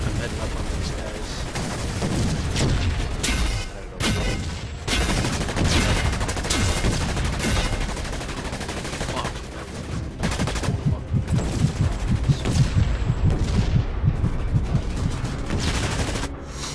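Sustained gunfire from the player's weapon in the shooter game DUST 514, loud, dense rapid bursts running almost continuously, with a few brief pauses.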